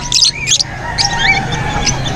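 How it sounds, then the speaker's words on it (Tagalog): Birds chirp at the Angeles City pet market in bright, close, repeated calls over a low background hum, with no voices. "Ito lang mga ibon dito"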